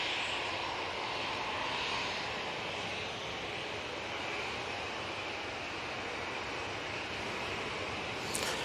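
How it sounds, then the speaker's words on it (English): An Airbus A321neo jet takes off from Manchester Airport, a steady broadband engine roar holding at moderate distance throughout with no voices. "And that 321neo is off to Rome."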